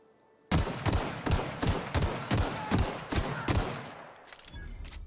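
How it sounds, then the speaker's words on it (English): A rapid series of about ten loud, close weapon shots rings out in The Outer Worlds, evenly spaced and punchy, then trails off into quieter background noise. "Well, I missed all my shots on him."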